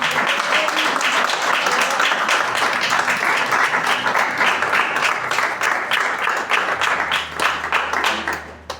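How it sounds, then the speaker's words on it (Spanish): A large church congregation applauding continuously, dense and loud, tapering off near the end. "Denle un aplauso a Dios"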